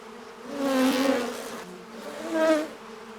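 Honey bees buzz steadily close by, the drone swelling twice as insects pass near.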